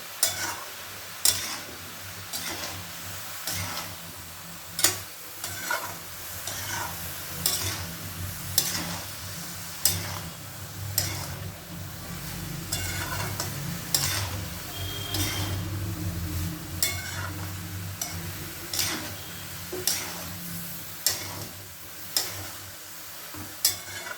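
A vegetable curry (torkari) is stirred in a pan, with sharp spoon scrapes and clicks recurring every second or so over a soft, low sizzle and no talking.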